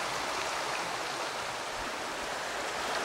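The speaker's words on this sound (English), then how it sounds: "we're reading it here by the stream, so you'll hear the water in the background" Stream water flows steadily outdoors, a dense, even hiss and rush that fills the whole stretch without pause, with no talking over it.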